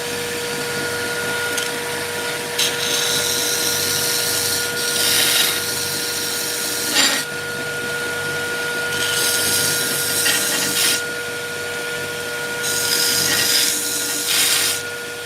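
A coarse 40-grit abrasive grinds a custom knife blade, a harsh steady whirring drone broken by several louder bursts of gritty rasping as the steel meets the belt.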